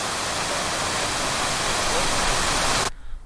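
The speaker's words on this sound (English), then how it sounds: "cascading down the River Wye" River Wye water pours over a weir on a Peak District walk near Ashford in the Water as a loud, steady roar, then cuts off abruptly near the end, leaving only faint background noise.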